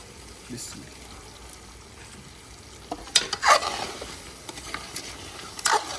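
Tomatoes with black pepper, salt and chili cooking in a karahi: quiet, steady low sizzle with a few louder stirring scrapes and spatters partway through.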